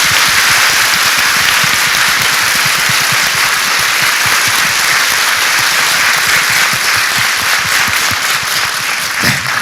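Large audience in Seoul applauding at a memorial talk event for the second anniversary of the Sewol ferry disaster, dense sustained clapping for nearly ten seconds.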